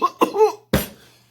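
Two or three short, harsh coughs from one person, close and loud, followed by a sharper final cough that trails off into silence.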